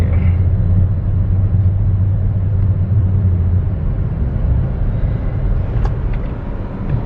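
A car driven by a learner picks up speed, giving a steady low engine rumble and road noise from inside the cabin, easing off toward the end, with no talking over it.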